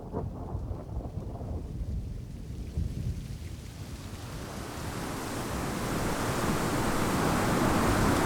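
Steady heavy rain with deep rolling thunder builds in a wet-season storm, the downpour swelling louder and denser toward the end with no voices.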